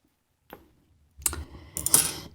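Scissors snip through beading thread while a Swarovski rivoli bracelet is being made: a single faint snip, then a close, brighter cluster of clicking cuts and small rattles, with no voice.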